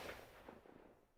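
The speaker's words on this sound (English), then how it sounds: "this is the gunshot that I went with" Gunshot sample from a Splice sound library, a single short crack with quick decay, quiet and compact, heard alone with no voices.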